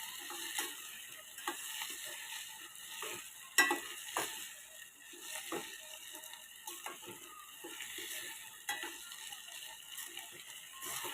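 Vegetable rice with turmeric and salt being stirred in a pan, heard as soft, irregular scrapes and light ticks over a faint sizzle, close and quiet.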